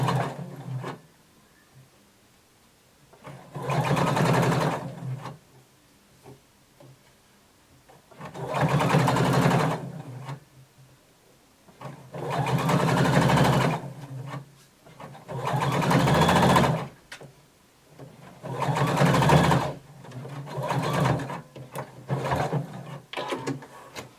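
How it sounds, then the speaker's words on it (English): A home sewing machine runs in five separate bursts of steady, buzzing stitching as it sews close to the folded edge of a double-folded 3/8-inch hem on a flared skirt's sleeve, with quiet pauses between runs. "I'm going to sew close to the folded edge."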